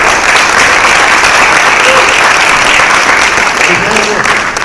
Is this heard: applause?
yes